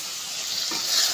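Shrimp sizzle and crackle in hot oil in a pan, a loud, steady frying hiss heard close up without any talk.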